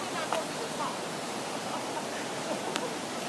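A waterfall roars steadily nearby on an Oregon trip, a broad continuous hiss of falling water holding even throughout, with faint voices briefly audible beneath it.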